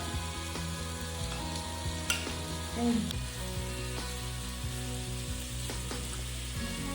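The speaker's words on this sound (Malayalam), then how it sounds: "ബട്ടർ ഇതാ ഫുള്ള് മെൽറ്റ് ആയിട്ടുണ്ട് ഇനി ചിക്കൻ പീസ് ഓരോന്നായിട്ട് ഇട്ട് കൊടുക്കണം" Chicken pieces sizzle and fry in fully melted butter in a pan, a steady close crackle with occasional stirring clatter as pieces are added one by one.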